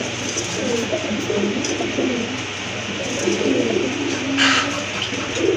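Male Rajgolla pigeon cooing in a low, soft, repeated rumble, close by and steady throughout, with other birds chirping faintly around it.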